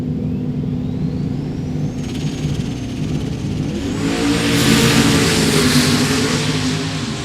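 A pair of Mustang drag cars staging at the strip, one a T-topped four-eyed Mustang, engines idling with a rough rumble, then revving up louder and sustaining a throaty roar close by.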